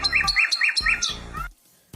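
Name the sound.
nightingale singing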